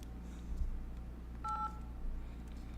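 A telephone keypad gives a single short dual-tone beep while a PIN is being entered. It sounds faint and clean over a low background hum, with no talking.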